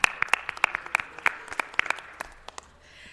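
Audience applause at a city council meeting, a thin spread of separate sharp claps from a modest crowd, fairly close and fading toward the end.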